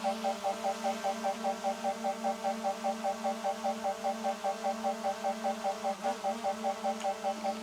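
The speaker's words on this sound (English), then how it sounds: "You can hear it beeping away with the sensors and everything." Rapid, regular electronic beeping repeats steadily over a constant low hum, like a drone's proximity sensors chirping nonstop.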